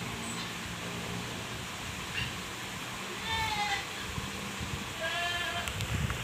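Goats on a farm let out a few short bleats, one near the middle and another toward the end, over a constant low rustling of feeding.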